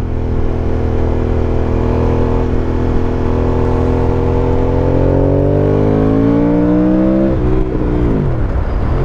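An Aprilia Caponord 1200 motorcycle with its stock exhaust runs loud and close, a steady engine drone whose pitch climbs as it revs, easing off and rising again near the end.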